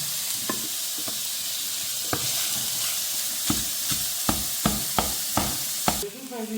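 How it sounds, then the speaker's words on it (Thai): Shallots and garlic stir-fry in a pan as the base for risotto, with a constant loud sizzle and a regular run of sharp spatula scrapes and taps, growing more frequent toward the end, and no voices. "ตอนนี้เราก็จะใส่หอมลงไปรวน ด้วยกันนะคะ หอมกับกระเทียม"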